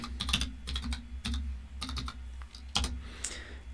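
Close, clear typing on a computer keyboard, with quick bursts of key clicks separated by short pauses and no talk.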